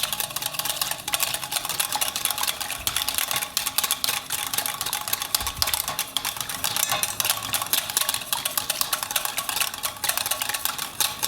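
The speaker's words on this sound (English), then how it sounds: "I'm going to start whisking quite vigorously" Vigorous whisking of tea into a mixture, a dense steady scraping and clinking of the whisk against the bowl that runs continuously and close.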